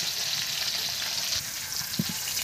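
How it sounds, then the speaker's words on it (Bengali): Potato pieces with turmeric frying slowly in a pan, a dense close sizzle with a couple of brief stirring knocks near the end, no voices. "আলুটা আস্তে আস্তে ভাজা হোক"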